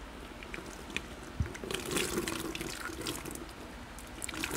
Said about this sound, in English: Okay, got some water here. Wash off the excess first.